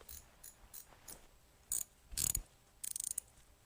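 A ratchet wrench clicks in short bursts while tightening a 3/16 bolt in a shed, quick rattling clicks separated by pauses, close and fairly quiet.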